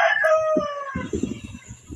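A rooster crows nearby, one loud drawn-out call, followed by a run of clucks.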